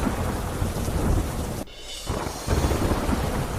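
Heavy rain pours down in Porbandar, a dense steady roar broken by a loud crack of thunder and a brief lull before the downpour surges back.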